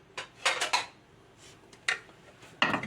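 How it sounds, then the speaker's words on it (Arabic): Crockery clatters in a kitchen as a plate is fetched and set down, with several sharp clinks and knocks spaced unevenly, close and fairly quiet, with no talk. "ثواني اجيب طبق احط فيه القشر"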